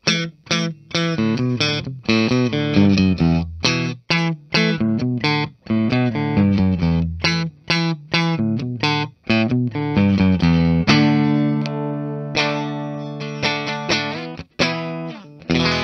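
Fender Japan Junior short-scale Telecaster electric guitar played through effects, a run of quick distorted, chorus-tinged picked notes and chords, then sustained ringing chords, loud and close with no talk.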